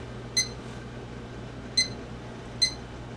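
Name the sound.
kitchen timer beeping while being set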